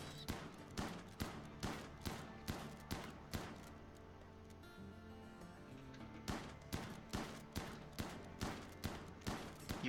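Steady, evenly spaced gunshots ring out in RimWorld as colonists fire at a boar, loud rhythmic reports with a short pause midway before the volley resumes.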